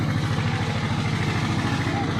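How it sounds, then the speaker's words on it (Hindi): A small, heavily loaded tractor labours up the stone stairway at Kedarnath, its engine chugging in a steady, strained low throb at moderate distance, with faint background voices. "ट्रैक्टर जा रहा है ऊपर।"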